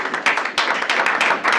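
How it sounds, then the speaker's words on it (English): A small team meeting audience claps together, a brisk run of sharp overlapping hand claps close by, uneven in rhythm and sustained for a couple of seconds. "give yourselves a round of applause."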